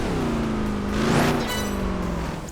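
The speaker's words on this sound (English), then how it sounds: "some cars sounding like a two-stroke engine where the fuel mixture is a little too rich" Racing cars in Project Gotham Racing 4 drone through the whole stretch with a steady, buzzy engine tone that rises in pitch as one car accelerates past and then settles, loud and continuous with no talk.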